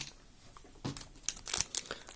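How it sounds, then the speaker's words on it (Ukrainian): A sticker pack being torn open by hand gives dry crinkling and tearing rustles in a few short bursts, close and fairly quiet, with no one talking. "відкриваємо наступний пакет"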